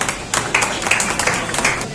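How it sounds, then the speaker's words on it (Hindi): Crowd applause at a YouTubers meet-up in Bilaspur, a steady patter of many hands clapping for a couple of seconds with slight swells, fairly close and without talk. "जोरदार तालियां उनके लिए"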